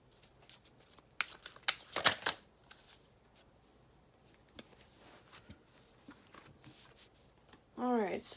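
Tarot cards shuffled in bursts, with quick riffling flutters clustered near the start and a few scattered card taps afterward, fairly close and moderately quiet, with a brief voice near the end.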